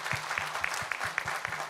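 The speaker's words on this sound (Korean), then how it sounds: "하나님께 감사와 영광의 박수 올려드리도록 하겠습니다" A church congregation claps at a Sunday worship service. Distinct rhythmic unison claps land at a regular beat, moderately loud, with no speech.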